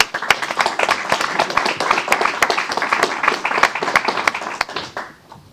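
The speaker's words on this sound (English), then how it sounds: "Let's give him a round of applause." An audience at a city council meeting applauds, a close, lively burst of many hands with crisp individual claps that tapers off near the end.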